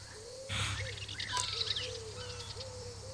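Faint chirps from a bird in the Alba: A Wildlife Adventure video game, a few short calls spaced out over a soft outdoor ambience.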